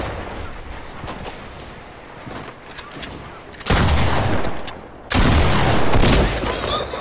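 Bursts of rapid gunfire in the video game Fortnite, two loud sustained volleys standing out over a constant busy noise bed of in-game sound.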